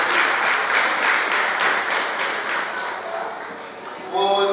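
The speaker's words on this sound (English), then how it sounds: "A round of applause again." Audience applause at a Yoruba Day celebration event, a sustained wash of clapping from a crowd that thins out toward the end before a voice starts speaking.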